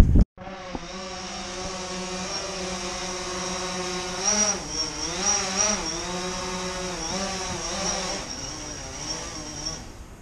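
Quadcopter drone hovering close by, a steady high-pitched rotor whine with buzzing harmonics that rise and dip as it maneuvers, heard alone after a brief knock at the start.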